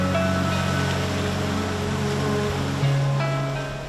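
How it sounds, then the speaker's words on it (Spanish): A free-flowing river rushes steadily, a dense continuous wash of water close by, alone with no voices. "Este río corre libre, debería correr libre siempre"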